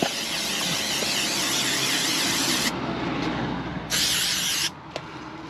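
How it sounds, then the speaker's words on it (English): Steady hissing spray of aerosol adhesive onto carpet lining in a Peugeot Boxer van, close and continuous, pausing briefly, then a second burst before stopping. "You have to spray the carpet on both sides, like so."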